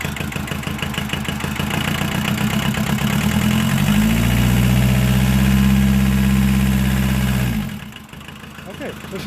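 An old car engine runs loud and close, revving up and then settling into a steady idle before cutting back sharply near the end.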